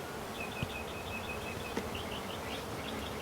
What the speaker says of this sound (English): get the rest of these bees out of here and move the hive back to its original spot